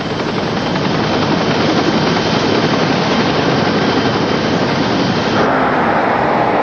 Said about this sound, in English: 20-year-old Matt Enriquez was taken by Care Flight helicopter to a nearby hospital.